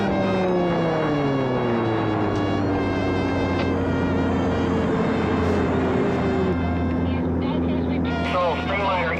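A Streamliner motorcycle at full throttle through the timed mile at a speed trial, a loud sustained engine drone with rising and falling harmonic tones and a steady close roar throughout.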